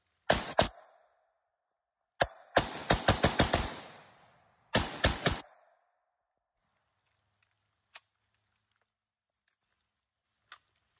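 A PSA AK103 rifle fires close and loud in three rapid bursts, the middle one a fast string of shots, followed by a few single shots that are fainter and farther off.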